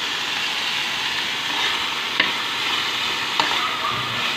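Cauliflower rice stir-fried in a pan, a steady close sizzle with scraping stirs, plus two sharp clicks of the utensil against the pan.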